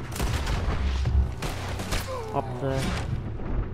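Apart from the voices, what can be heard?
gunshots in the video game Red Dead Redemption 2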